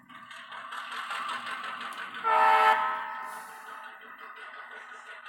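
A model C&O GP7 diesel locomotive sound decoder revving its engine, a droning rumble that rises in a brief louder surge before easing back down, heard close with no talk.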